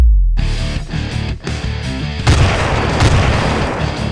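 A loud, deep rocket explosion in the Team Fortress 2 video game booms suddenly, then a dense roar of blast and gunfire-like noise continues steadily without talk.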